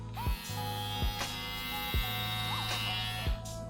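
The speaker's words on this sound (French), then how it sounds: "c'est un bruit de tondeuse normale" A Philips OneBlade Pro 360 electric shaver runs with a steady close buzzing hum, broken by a few brief louder bumps and shifts in pitch as it moves.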